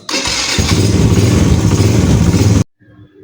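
A motorcycle engine starts and runs at a loud, steady idle close by, with a rough, throbbing low rumble that cuts off suddenly near the end.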